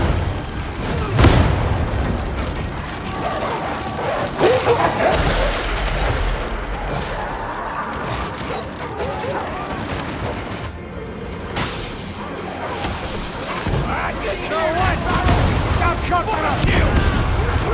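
A shotgun fires in Warhammer 40K: Darktide amid a noisy fight. Heavy booming blasts punch through clanging and chaotic combat noise, with the loudest shot early on and further impacts spread across the clip.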